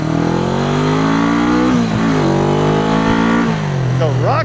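Honda CB360 motorcycle engine idles loud and close, a steady burbling rumble with slight rises and dips in revs, running rough on only one cylinder.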